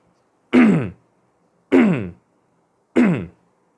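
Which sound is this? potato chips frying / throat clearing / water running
throat clearing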